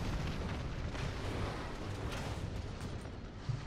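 Tank cannon fire slams into angled armor in the War Thunder combat game, a dense, loud booming roar of shots and impacts that stays heavy throughout.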